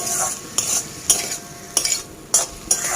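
Food cooking in a pan on a stove, with five sharp bursts of stirring and scraping against the pan over a low background sizzle, close by.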